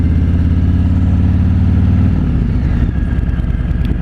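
A 2017 Harley-Davidson Road King Special rumbles loud and close with a deep, throbbing engine note that drops in pitch and turns choppier as the throttle closes and the engine brakes the bike.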